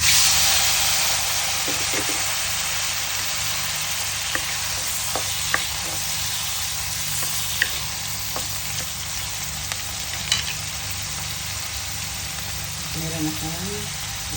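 Mushrooms frying in melted butter in a pan give a steady close hiss and sizzle, with scattered light clicks and a brief faint sound near the end.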